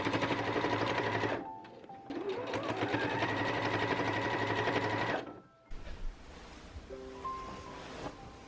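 A sewing machine runs in steady bursts, stitching the layers of a quilted tote bag together, with a clear stop and a short pause in the middle and quieter handling noises afterward.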